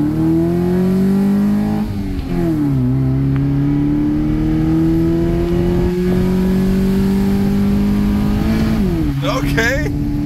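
A Honda Accord with an F22 engine and a cheap aftermarket intake, idling and revving up and down nearby with a droning engine note and a sharp rev near the end; people talk faintly over it.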